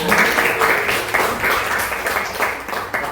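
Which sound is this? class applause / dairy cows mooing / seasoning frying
class applause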